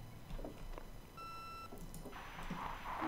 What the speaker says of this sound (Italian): No, è scattata la segreteria telefonica.